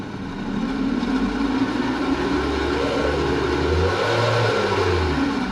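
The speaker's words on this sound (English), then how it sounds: "we're getting a lot of wheel speed, but no actual forward movement here" A 2026 Toyota RAV4 AWD spins its wheels in snow with traction control off, its engine holding a steady, loud revving drone that swells slightly in pitch without letting up.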